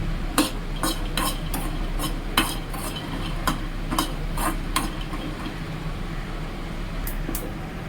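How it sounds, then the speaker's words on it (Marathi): Peanuts dry-roasting in a pan while being stirred, with repeated scraping and clinking strokes in an uneven rhythm over a steady background hum, close by and moderately loud, no talking. "सो इकडे ना शेंगदाणे मी टाकलेत भाजायला"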